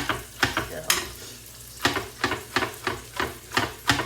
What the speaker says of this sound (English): I'm just going to give the onions a little mix